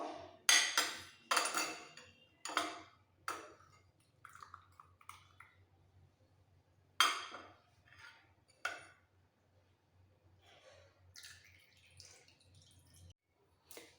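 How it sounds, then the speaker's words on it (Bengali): Ground mustard paste mixed with a little water is pressed and strained through a sieve, giving a series of soft wet squishes and scrapes with quiet drips, close and intermittent, separated by pauses. "অল্প করে জল একটু মিক্স করে পুরো সর্ষে বাটাটা ছেঁকে নেবো"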